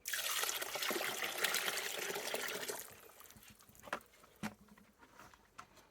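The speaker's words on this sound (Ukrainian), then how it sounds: "І вливаємо до наших вишей нашу воду з цукром." Sugar water pours into a vessel of cherries for homemade cherry wine, a steady close splashing stream for about three seconds that then drops to faint drips and small trickles.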